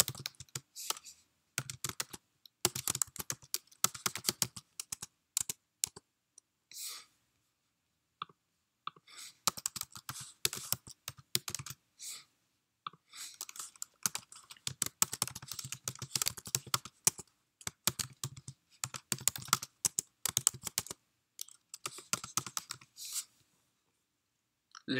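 Steady bursts of typing on a computer keyboard while customer details such as company name, address and contact number are entered into a form, rapid close-up key clicks coming in runs with short pauses between them.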